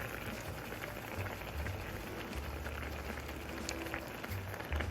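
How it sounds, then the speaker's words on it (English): Ratatouille vegetables stew under a lid in a pot, giving a steady low bubbling simmer with a soft crackling hiss that runs evenly and close throughout, with no talking. "I'm gonna put the lid on it and let it stew for a little while."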